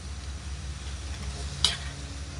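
Marinated pork liver frying in a pan as it is stirred, a steady close sizzle with one brief scrape of the utensil partway through.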